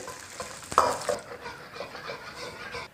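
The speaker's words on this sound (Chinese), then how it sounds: "锅内来一点油，放点冰糖炒一个糖色" Rock sugar being stir-fried in oil in a wok to caramelize for spicy crispy pork ribs, a soft sizzle with scraping stir strokes and a brief clatter near the start.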